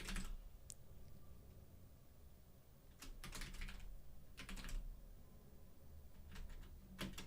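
Typing on a computer keyboard at a desk, with short bursts of close, crisp key clicks separated by quiet pauses and a low room hum underneath.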